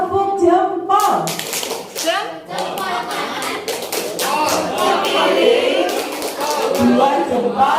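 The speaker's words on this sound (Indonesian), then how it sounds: "Jangan tepuk semangat ya, tepuk jempol ya." A group of people doing a thumb-clap routine in a teachers' workshop session, sharp rhythmic claps that come and go, mixed with voices and chatter throughout.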